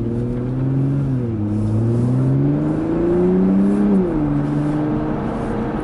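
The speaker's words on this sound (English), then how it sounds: "I don't know if the audience hears the downshift like that, but there's a lot of noise back there when you do that." Toyota Supra MK5 engine and exhaust through a downshift, a loud steady drone whose pitch dips, climbs and drops again over several seconds with no talking.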